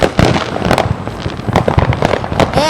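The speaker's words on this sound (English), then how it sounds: "Welcome to part 2, guys, of the fireworks." Fourth of July fireworks exploding in a dense, continuous volley of loud bangs and crackling bursts, one after another across the whole stretch, with no talking.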